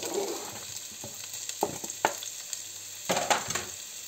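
Onion added to hot oil with toasted garlic, frying with a soft sizzle broken by several scraping stir strokes and clinks of a utensil against the pan, close by and without speech.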